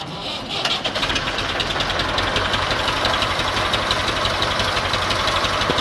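A 1982 Massey Ferguson MF 265 tractor engine runs steadily at idle, a loud, continuous diesel chug with a rapid knocking rhythm close to the listener, alone without talk.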